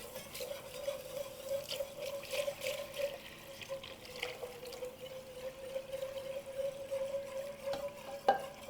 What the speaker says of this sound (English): you want to add your milk.